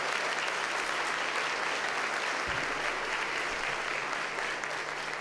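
Audience applause at an education conference student panel in Dallas, steady and sustained broadband clapping that holds evenly throughout without pause.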